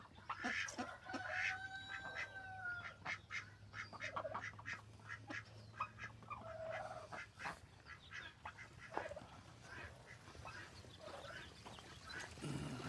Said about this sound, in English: Here's our foster ducks.